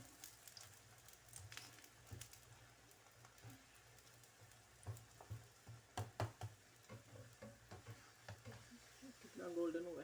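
Soya paratha frying in oil on a pan, a faint low sizzle with scattered ticks and spatters and a louder crackling burst near the end, quiet and close.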